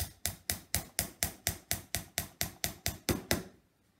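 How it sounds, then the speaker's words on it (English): About fifteen sharp, evenly spaced hammer blows strike a nail into wood at a brisk, steady pace, close up, then stop. "I'm going to put it in that hole with the glue in, and just hammer it back in"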